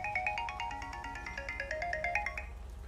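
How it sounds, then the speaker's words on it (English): A synthetic melodic mobile phone ringtone in GTA 5, a bright repeating pattern of quick tones playing steadily and alone at moderate loudness for a few seconds. "My phone's ringing."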